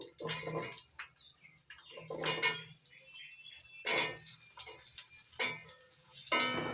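Potato pieces go into a pan of oil with cinnamon for sabudana pulao, producing a series of sharp clinks and clattering knocks of utensil against cookware at irregular intervals, close by.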